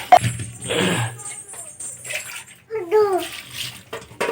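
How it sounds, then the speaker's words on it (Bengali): Cut potatoes being washed in a bowl of water, with sloshing and splashing in short bursts, close, mixed with a little clinking and some talking voices. "আলুকে আমি ঠিক ডিম ডিম করে কেটে নিয়ে এই আলুটাকে ধুয়ে নিলাম"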